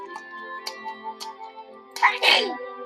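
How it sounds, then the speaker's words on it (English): Light ticking clicks over a soft tonal hum lead into one sharp, close sneeze near the end. "people sneezing all around you"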